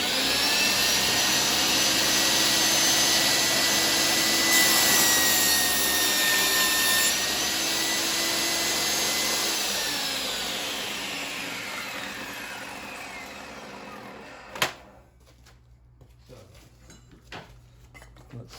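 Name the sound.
Kobalt 10-inch worksite table saw making a rip cut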